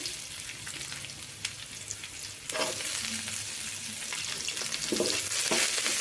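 A large chopped onion sautés in a pan for a rice dish. A quieter sizzle swells louder partway through, and spoon-scraping stirs recur over the hiss with no speech.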